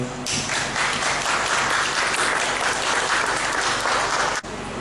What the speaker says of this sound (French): on applaudit cet esprit qui est dans la vie serviteur